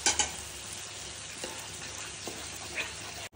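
Yogurt is stirred into spices fried in oil, giving a soft steady sizzle with a few light scraping clinks of the spoon against the pan, close and quiet, with no speech.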